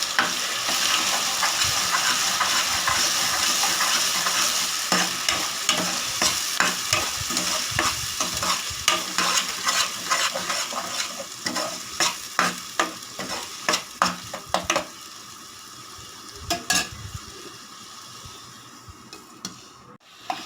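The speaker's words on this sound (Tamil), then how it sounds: "இதெல்லாம் எண்ணெயிலேயே மிதமான சூட்டில் வேக வச்சிடலாம்." Raw ground masala paste fries in oil over moderate heat for pea sundal, a close sizzle with rapid repeated spoon scrapes and taps that thin out and grow sparser toward the end, no talk.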